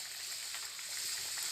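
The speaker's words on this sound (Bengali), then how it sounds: "ঝোলটা ফুটে গেছে, মাছ দিয়ে দিব" Fish curry bubbling in a pan, a steady close hiss with fine crackling running unbroken throughout, swelling slightly louder toward the end, with no voices.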